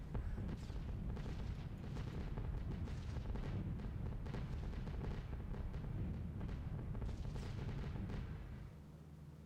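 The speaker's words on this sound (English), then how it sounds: "Crikey, that was some bombardment." Sustained heavy artillery bombardment in the flight game B-17 The Mighty 8th, a dense continuous roar of booms and blasts that stays loud throughout before easing slightly at the end.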